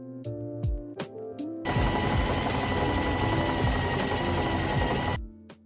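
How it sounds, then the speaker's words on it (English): A sewing machine runs a zigzag stitch around the edge of a fabric knot bag in one loud, continuous rattling burst of about four seconds, with brief quieter moments before and after. "You want to sew a pattern like this around the whole bag and also cut off the excess fabric"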